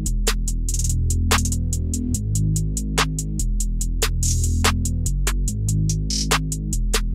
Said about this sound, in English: I have this Omnisphere bass line